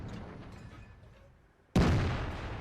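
The T57 Heavy tank's gun fires in the video game World of Tanks, one loud, sharp boom that cuts through a fading rumble of game noise and rings out with a long decay.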